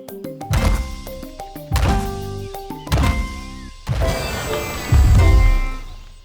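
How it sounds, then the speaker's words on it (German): Heavy thumps and thuds in an animated animal cartoon, Odd-Paw Vet, land as roughly five loud, spaced impacts blended with musical tones, with no talking. "Hast du dieses Poltern gehört"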